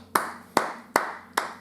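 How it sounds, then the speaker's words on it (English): Four sharp hand claps, evenly spaced about a third of a second apart, close and crisp with short decays over a faint steady hum. "It's the most condescending clap I've ever heard."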